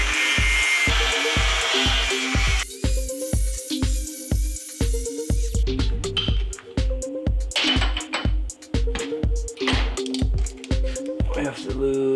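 Power tool cutting a metal car part for a Mustang, a loud grinding whine that changes pitch partway through, overlaid with a steady pounding rhythmic beat throughout.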